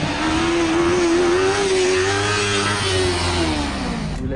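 A Yamaha MT-03 motorcycle engine revs hard and holds high, loud and close, its pitch climbing and then easing off, with no voices.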